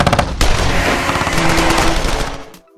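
Sustained machine gun fire from a movie action scene: a loud, dense rapid stream of shots lasting a few seconds and then cutting off abruptly, with no speech over it.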